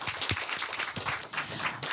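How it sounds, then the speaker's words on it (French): Audience at a panel event applauding, a brief patter of light clapping from a modest crowd, fairly faint and steady. "Merci de l'applaudir."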